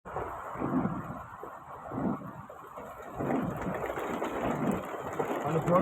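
Heavy rain pours steadily under a cloud-covered sky, a dense, continuous wash that swells slightly louder toward the end, with a faint low rumble beneath.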